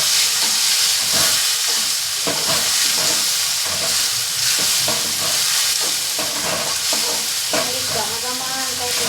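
Masala sizzles in hot oil for an okra sambar, with steady loud frying hiss and repeated scraping stir strokes throughout, no voices.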